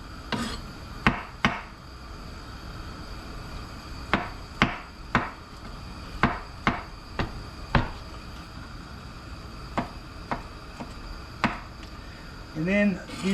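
Leftover turnips are sliced thin with a knife, about a dozen sharp, irregular knife strikes on a cutting board, close and distinct over faint room noise.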